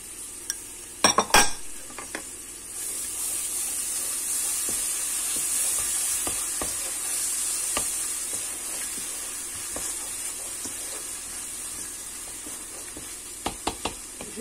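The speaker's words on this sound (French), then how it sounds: "Donc, je fais revenir le tout. Après, je mets les tomates concassées." Crushed tomatoes sizzling in a pan for Indian-style lentils, a soft steady hiss broken by metal utensil clatters and stirring knocks at the start and end, close by with no talk.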